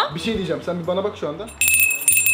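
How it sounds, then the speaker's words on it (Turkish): A person talks, then a bright, sustained electronic ring cuts in loudly and continues to the end, briefly dipping before resuming. "Bu zil sesine odaklan tamam mı?"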